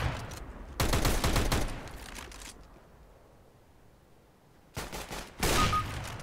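Gunfire in Counter-Strike: Global Offensive, heard as two loud bursts of rapid automatic shots roughly four seconds apart, separated by near silence.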